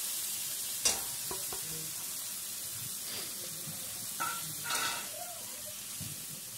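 Chicken feet stir-fried with ground cumin, coriander, turmeric and chili powders, a moderate sizzle with a few sharp scrapes and stirring clatters.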